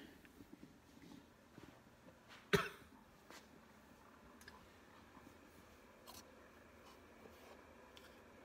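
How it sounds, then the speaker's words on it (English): A man coughs once in a quiet room in the morning, a single sharp, close cough amid faint background ticks and small handling noises. "Man, I'm coughing a lot this morning."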